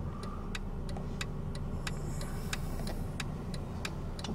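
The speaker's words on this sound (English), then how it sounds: "Let me turn the four-ways on even." Mercedes C300 hazard lights clicking in an even, regular tick about every third of a second, faint and close over a low steady engine idle.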